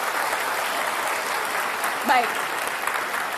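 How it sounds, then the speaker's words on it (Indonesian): Studio audience at a televised Jakarta gubernatorial debate applauds the two candidates with steady, even clapping throughout, while a voice briefly speaks partway through. "Kita beri tepuk tangan untuk kedua kandidat."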